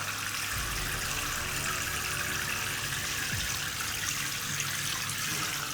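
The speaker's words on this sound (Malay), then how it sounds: "Kita isi air dalam bekas sampai penuh." Water runs steadily into a plastic microwave food container, filling it to the brim; a continuous close-up gushing and splashing stream plays alone with no speech, its tone shifting slightly as the container fills.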